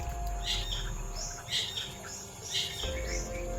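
A bird calls repeatedly outdoors, with bright chirps roughly once a second over a steady insect hum and low background rumble, and no talking.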